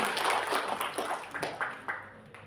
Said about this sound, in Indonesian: tepuk tangan untuk Ibu Emi